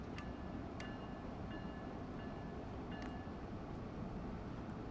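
A Boston commuter train in Train Sim World 2 rolls along in a steady, loud rumble, with a few faint clicks and thin high squeals scattered over the continuous low roar.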